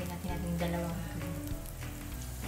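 Egg frying in butter in a pan, a steady soft sizzle and crackle that carries evenly throughout.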